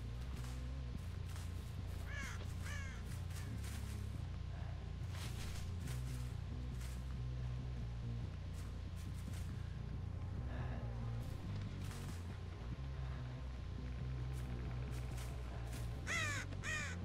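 Harsh crow caws in the horror game Dead by Daylight rise intermittently over a constant low, rumbling backdrop, with several caws bunched together near the end.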